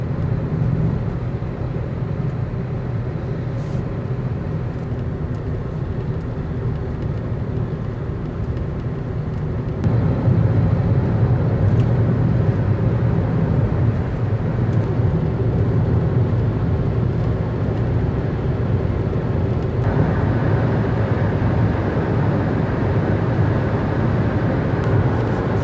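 Steady low road drone and tyre roar inside a moving car, heard after the wheel wells were soundproofed, continuous and fairly loud with a slight step up in level partway through, no voices.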